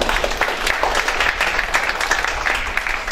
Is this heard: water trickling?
no